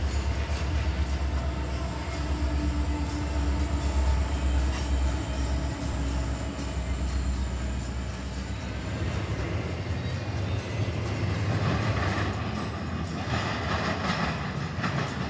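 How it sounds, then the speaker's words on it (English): Freight train rail cars roll steadily past at close range, a continuous loud rumble with wheel clatter and rising metallic squeal, no talk over it. "acceleration sound as each rail car passed in front of us"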